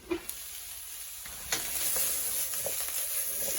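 Vegetables cook under a lid in a pan on low heat, giving a soft steady sizzle with a faint high hiss, a couple of light clicks near the start and a slight rise partway through, no voices.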